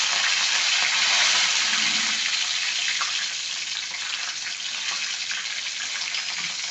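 Mustard and cumin seeds sizzle in hot oil for tempering, a dense, close, crackling hiss that holds steady and eases off slightly after a few seconds.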